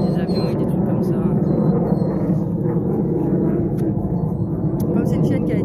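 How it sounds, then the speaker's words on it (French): A low, continuous jet rumble drones overhead throughout, steady and fairly loud, with faint background noise on top. "On va peut-être attendre que l'avion passe."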